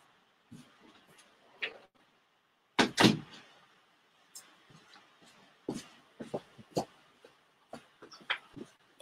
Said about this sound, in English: forgot to close the door.